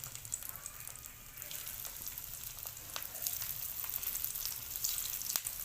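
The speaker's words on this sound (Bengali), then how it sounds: "প্যানে তেলটা গরম করে নিয়েছি, এখন পাকোড়াগুলো ভেজে নেব।" Fish pakoras deep-frying in hot oil in a pan over medium heat, a soft, continuous crackle and sizzle with scattered pops that grows slightly livelier toward the end.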